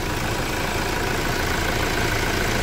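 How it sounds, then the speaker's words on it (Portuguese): A high-mileage Toyota Hilux engine idles steadily, a dense continuous rumble held close and loud with no break and no voices. "E o motor tá redondinho"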